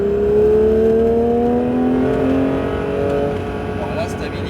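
A Porsche 911 GT3 on the Mireval circuit, heard from inside, its engine holding a loud, steady tone that rises gently in pitch as it pulls harder, with road and wind noise throughout.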